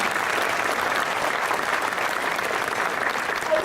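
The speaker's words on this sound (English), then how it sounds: "We'll give them a really big round of applause." An audience at an alumni spring reunion gives a big round of applause for President's Leadership Class members, a dense, steady clapping that holds evenly for a few seconds.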